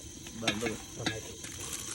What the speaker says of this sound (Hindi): तो गाइस टमाटर डाल रहे हैं।